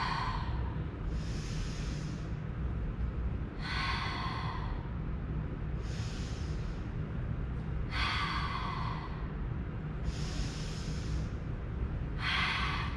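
Breathy exhales during a mat Pilates exercise for pelvis stability, six forceful airy breaths spaced about two seconds apart, close and clear over a low steady hum.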